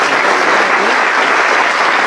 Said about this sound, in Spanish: Den un aplauso al Señor Jesucristo